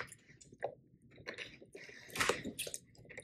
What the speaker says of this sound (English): Are you swallowing? You have to chew.